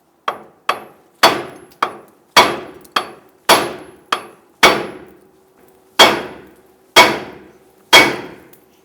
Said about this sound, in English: I'm going to go ahead and use our hammer and strike the knuckle right here.